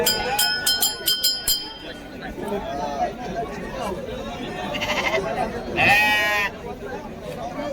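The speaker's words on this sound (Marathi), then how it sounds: "या आजच्या काष्टीच्या बाजारामध्ये या क्वालिटीमध्ये आपल्याला मेंढ्या व बालिंगे पाहायला मिळतात" Sheep and lambs bleating at a busy livestock market in Kashti, several loud, quavering calls close by amid crowd chatter and people talking.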